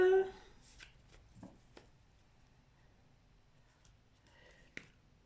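Tarot cards are cut and shuffled close by in quiet short bursts: soft riffles and taps, an early sharp snap, then a final flurry of card flicks.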